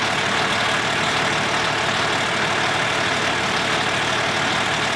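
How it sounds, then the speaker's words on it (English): A Cummins diesel engine in a new 2020 ag truck idles with a steady, loud, close rumble and hiss that holds without change, with no talking. "we just fired up the engine for the first time"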